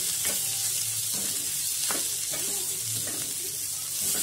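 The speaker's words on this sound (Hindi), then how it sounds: "और सब चीजों को अच्छी तरीके से मिक्स कर लेंगे।" Smashed potatoes sizzle in a pan over a low flame while a spoon stirs and scrapes through them in a few soft strokes, close and steady with no talk.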